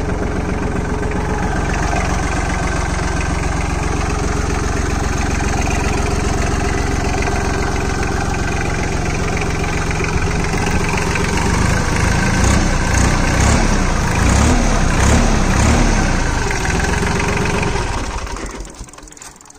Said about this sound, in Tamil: ஹை ஸ்பீட் இன்ஜினுங்கிறதுனால ஐடியல் ஸ்பீடு பார்த்தீங்கன்னா ஒரு 900 ஆர்பிஎம்மில் ரன் ஆகுதுங்க.